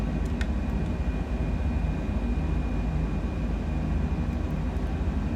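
Cessna Citation Longitude jet engines run at climb thrust in Microsoft Flight Simulator, a steady, loud broadband roar with low rumble and a faint high whine, unbroken throughout with no talk.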